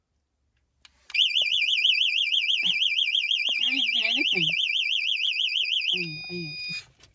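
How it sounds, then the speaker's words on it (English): Cheap battery-powered car alarm blaring a loud, continuous warbling siren for about five seconds before cutting off, with people talking under and after it. "proper cheap alarm system, best thing ever. But battery powered."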